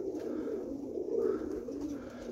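Roller pigeons coo in a loft, a low continuous rolling murmur of several birds, steady and fairly close.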